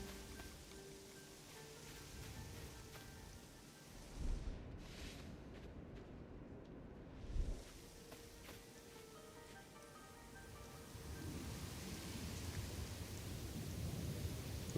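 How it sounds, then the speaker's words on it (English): Steady rain hisses through an in-game storm while two deep thunder rumbles roll in, one after the other, before the downpour swells louder. "There's probably a storm. There's a storm brewing."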